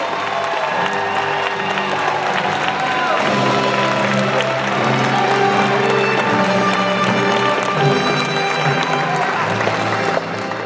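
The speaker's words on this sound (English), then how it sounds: "Let's have a warm round of applause for all of our graduates." Applause and cheering from a convocation crowd for the graduates at a spring ceremony, a steady, loud wash of clapping with music-like tonal layers running through it for the whole span.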